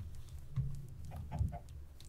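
Minecraft chickens give a few scattered, quiet clucks, brief and close, spaced out across a low background, with no voices.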